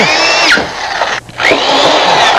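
A cordless power drill drives 1-inch number 8 screws into a wood frame of a storm door without pilot holes, a loud whining motor run with a pitch drop as the screw seats, a brief pause, then another long buzzing drive.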